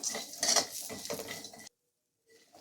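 Melon seeds and walnuts roasting in ghee in a pan, giving off busy clinking, crackling textures for about a second and a half before it goes quiet, then a faint return at the end.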